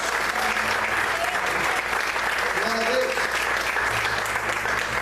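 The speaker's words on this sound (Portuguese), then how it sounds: "Você pode aplaudir e exaltar ao Senhor por isso." A church congregation applauding during a sermon, with steady dense clapping throughout, a low hum underneath and a voice briefly calling out over it.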